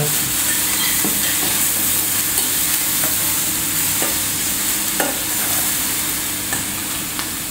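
Steady loud sizzling of tofu cubes frying in a pan, with occasional soft clicks and stirring sounds, no voices.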